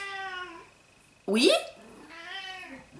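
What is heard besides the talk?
cat meowing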